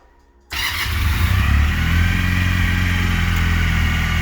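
A Junak M15 motorcycle with its original stock exhaust fires up after a moment of silence, then settles into a steady, loud, close idle.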